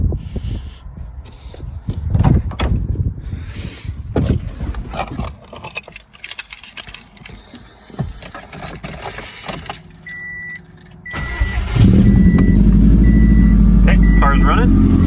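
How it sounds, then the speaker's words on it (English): A car with a 300+ hp built engine is started outdoors on a windy day: rustling, wind and someone talking, then a crank and the engine catching into a loud, steady idle that continues to the end. "So, let's start the car."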